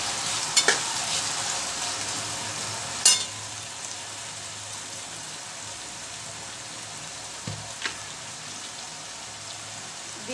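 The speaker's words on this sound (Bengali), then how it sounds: "আগে আলুটাকে আমি একটু তেলে ভেজে নিব।" Potato frying in oil, a continuous sizzle with a few sharp spatula clacks against the pan, close and fairly quiet.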